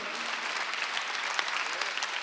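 A church congregation claps together during a Sunday worship service, a dense, steady wash of many hands that holds evenly for a couple of seconds with no voices on top.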